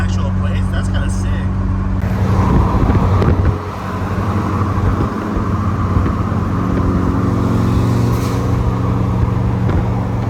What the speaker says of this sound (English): I am taking the Evo up to Bellevue right now to link up with more Evos.